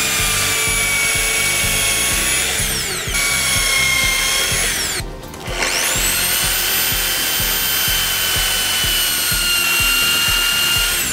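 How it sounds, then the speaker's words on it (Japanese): A power drill with a woodworking bit works on a panel for a small homemade cube PC case, whining loudly up close. Its pitch sags under load, cuts out briefly midway, then spins up again. "ドリルビットは木工用を使用しました。"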